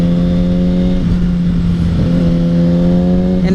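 Sport bike engine revving hard and accelerating up close, a loud steady harmonic whine that dips and climbs again with gear changes, continuous throughout with no talk.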